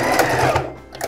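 A sewing machine runs a close burst of stitches along the edge of a mini fan cover, then stops and goes quiet.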